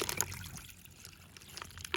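Water poured off a pot of freshly blanched freshwater snails, a faint, steady trickle and splash lasting a couple of seconds.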